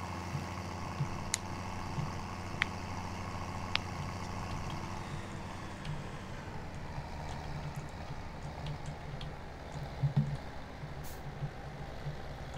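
A small tractor engine in Farming Simulator 17 runs in a low steady drone throughout, with occasional faint clicks and clanks; no talking.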